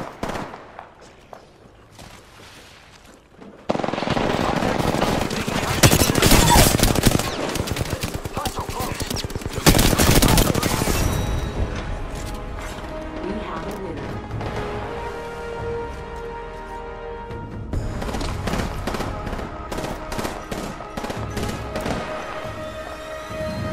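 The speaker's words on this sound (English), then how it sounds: "The enemies are shooting at me." Rapid bursts of automatic gunfire from enemies in a video game crackle loudly and almost continuously, heaviest in the middle stretch, with a player talking over the shooting.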